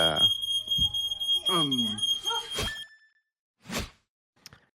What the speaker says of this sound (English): at least we know the smoke alarm works